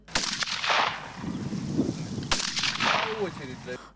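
Two sharp assault rifle gunshot bursts ring out a couple of seconds apart at a 30-metre target range, each followed by rumbling echoes across an open area.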